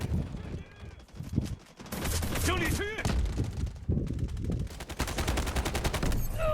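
Rapid bursts of automatic gunfire from the video game Delta Force: Hawk Ops, loud and sustained, with crackling shots and some voices mixed in.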